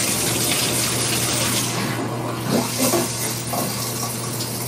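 Shower water running steadily, a broad continuous hiss of spray with faint splashing changes midway, fairly loud and close with no talk over it.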